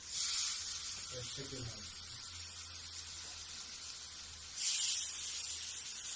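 Chicken breast hits a hot pan with onions, a broad bright sizzle that swells again near the end, with a person speaking briefly over it at the start.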